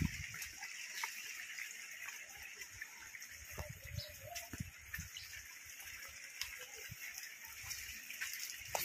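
Floodwater after heavy rain pours over an old road, making a steady, faint broadband rush, with a few bird coos faintly in the background.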